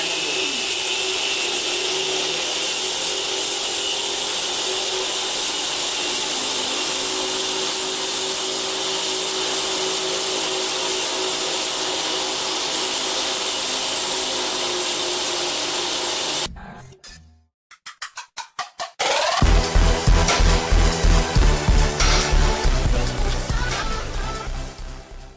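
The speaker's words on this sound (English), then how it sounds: "I hope you are hearing the sound of random machine." A homemade 220 V free energy generator mounted on a bicycle runs with a steady, loud mechanical whir and buzz, cuts out briefly, then restarts with a rhythmic pulsing drone close by.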